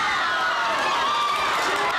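A crowd of spectators cheering while watching a 2002 World Cup football match, a dense, steady wash of shouting and excited voices with no pauses.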